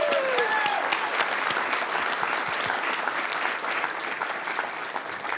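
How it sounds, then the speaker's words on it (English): Sustained audience applause fills a city council meeting chamber in Sacramento, a dense steady patter of many hands at a fairly even level, with a few brief vocal whoops near the start. "Give them another round of applause."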